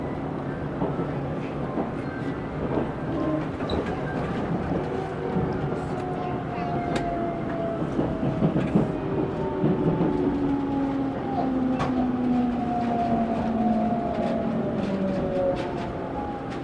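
A JR 373 series limited express train, the Fujikawa on the Minobu Line, rolls in to a station stop. A steady rumble from inside the car is heard, with long gliding brake or motor whines as it slows.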